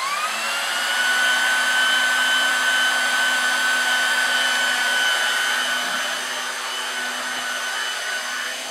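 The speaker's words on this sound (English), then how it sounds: "So I will start the welder here and come back to it as soon as it gets up to temperature." A hot air plastic welder used for repairing HDPE fabric runs continuously as it heats up to temperature, giving a loud, steady hair-dryer-like blowing roar with a rising whine, close by and with no voices.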